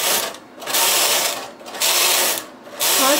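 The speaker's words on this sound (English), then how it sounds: "It decreased on each end as I was pushing the lace carrier." Lace carrier pushed across the needle bed of a knitting machine: three long, loud rasping sweeps separated by brief pauses, close and mechanical, with no talk.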